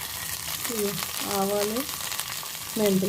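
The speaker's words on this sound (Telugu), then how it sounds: "ఇది తీసేసి పోపు వేయించుకుందాం" Steady sizzle of garlic, mustard seeds, fenugreek, cumin and dried red chillies frying in hot oil for tempering, close up, with a voice speaking briefly over it.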